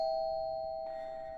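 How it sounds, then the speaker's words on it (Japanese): A house doorbell rings with one clear, sustained electronic chime, close and steady, then shifts pitch slightly partway through. No one speaks. "やばい、めっちゃピンポン押してる。"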